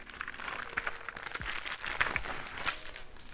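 Plastic sleeve being pulled off a HyperX Alloy Origins 60 mechanical keyboard inside cardboard packaging, a steady stream of close crinkling and rustling with a few sharper crackles, no talking.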